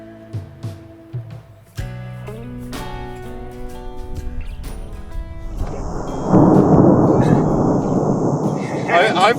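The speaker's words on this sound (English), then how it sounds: "we've got a thunderstorm looming" Thunder from an approaching thunderstorm in the remote bush of Western Australia rises after a stretch of tonal music, building into a loud, broad rumble with crackling texture that persists to the end.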